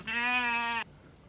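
A single loud, close bleat from a goat or sheep on a farm: one sustained, wavering cry lasting most of a second, then quiet.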